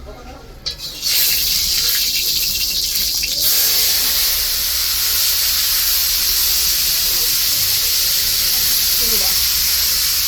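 Finely chopped sweet pumpkin frying in oil in a home kitchen: a brief soft start, then a loud, steady, close sizzling hiss that continues without break.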